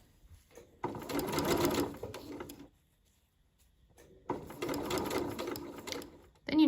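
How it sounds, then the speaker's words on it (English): A sewing machine stitches hem tape onto a dress in two whirring runs of about two seconds each, separated by a quiet pause, close and steady. "You can trim it down if you need to, and then just sew it on top."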